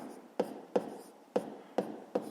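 Five evenly spaced sharp taps of a pen on paper sound as a math solution is written out, close and quiet in an otherwise still room.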